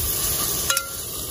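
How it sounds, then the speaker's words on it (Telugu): Tomato rice ingredients get stirred in a pan over a soft sizzle, with a couple of quick utensil scrapes and a light clink near the end, close and moderately loud. "ఇవి కొద్దిసేపు ఒక 2 మినిట్స్ దాకా మనం వీటిని తిప్పుతూనే ఉండాలి ఫ్రెండ్స్."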